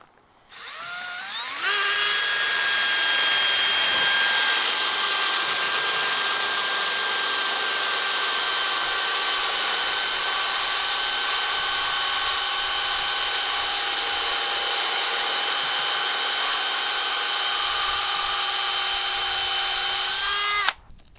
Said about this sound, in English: So let's see if it can drill in granite now.